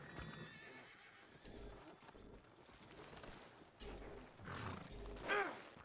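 A horse whinnies and snorts in the Red Dead Redemption 2 video game, with hoof clops and outdoor ambience and a loud neigh near the end.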